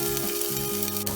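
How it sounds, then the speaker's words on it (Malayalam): Crushed green chillies sizzle and fry in a hot pan for an egg biryani, a steady, close crackle with faint stirring and no talk. "എല്ലാം നന്നായി വഴറ്റി കൊടുക്കാം"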